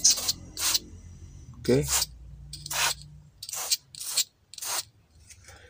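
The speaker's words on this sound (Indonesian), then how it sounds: "Cairan pembersih kita semprot dulu." Electronics cleaning liquid is sprayed onto the circuit board of a Samsung air conditioner remote control in about eight short hissing bursts spread across several seconds, close up, with a brief spoken word among them.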